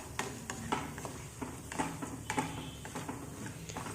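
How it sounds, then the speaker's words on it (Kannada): Cashews, cumin seeds and pepper frying in hot ghee in a pan, giving a soft steady sizzle broken by light stirring taps and scrapes, close and fairly quiet. "ಎಲ್ಲನೂ ಚೆನ್ನಾಗಿ ಫ್ರೈ ಮಾಡ್ಕೊಳ್ಳೋಣ."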